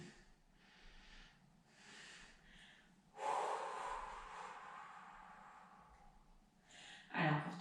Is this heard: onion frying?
no